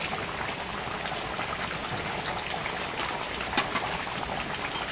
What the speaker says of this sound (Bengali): মিশিয়ে দেবো এটা নাড়াচাড়া করে